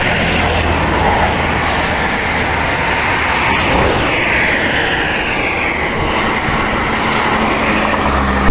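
Loud, continuous roar of road traffic with vehicles rushing past close by, a broad rumbling wash that swells and fades without pause.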